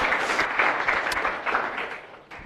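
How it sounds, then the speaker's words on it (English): Audience applause at a live health event, a dense, steady wash of many hands clapping together, loud and sustained before fading slightly at the end. "All of you will act like I'm Shah Rukh Khan clapping for me"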